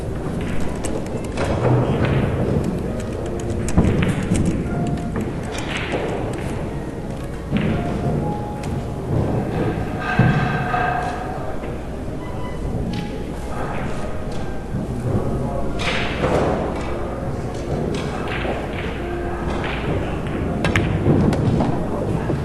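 Pool balls in a 10-ball championship match knock together in occasional soft clacks and thuds, set against a busy hall murmur with voices talking.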